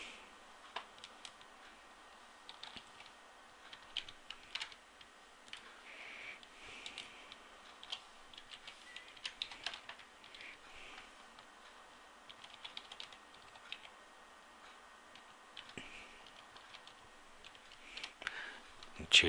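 Light typing on a computer keyboard, faint irregular key clicks in quick bursts throughout, close but quiet, with no talk.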